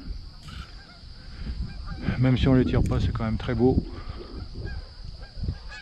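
Flocks of wild geese honking during a goose hunt in Minnesota, a burst of many overlapping honks rising in the middle then thinning out, heard under someone speaking French.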